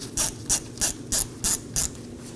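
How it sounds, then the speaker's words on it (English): A ratchet turns a T30 Torx bit to back out the wheel speed sensor screw on the rear axle of a 2018-2024 Chevrolet Equinox: six crisp, evenly spaced clicking bursts, close and clear. "I'll be using a T30 Torx bit to remove the screw."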